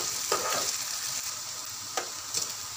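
Onions and potatoes fry with salt in a pan for daliya khichdi, giving a steady close sizzle broken by a few quick scraping stirs.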